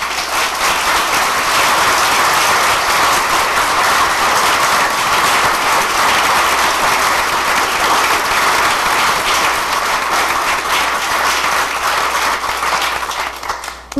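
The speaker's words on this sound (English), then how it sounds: "Let's give them a round of applause." A loud, dense crowd applause at a small-town candidates night, sustained and unbroken for the whole stretch before tapering off at the very end.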